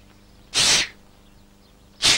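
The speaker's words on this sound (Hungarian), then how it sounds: "Ki tüsszögött?" Two sharp, loud sneezes sound close by, separated by about a second and a half of near quiet, each a breathy burst with no talking around them.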